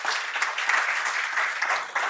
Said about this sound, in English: Let's quickly give our panelists a round of applause.